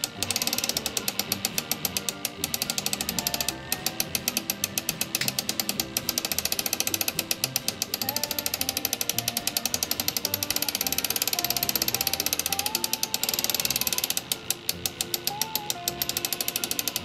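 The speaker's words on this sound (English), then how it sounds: "I'm going to stick the ratchet on it." A ratchet on a ShortCut auto glass cutting tool, used to cut out the back glass of a Dodge, clicks in fast, steady runs with brief pauses, close up and without any talk.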